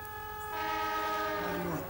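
A train horn sounds in a comedy sketch, a sustained multi-tone blast that swells louder partway through over a low rumbling rail background.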